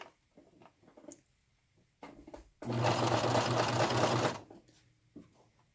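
Home sewing machine stitches a zipper in one steady burst of rapid needle chatter lasting under two seconds, framed by quiet handling clicks and fabric shuffling before and after.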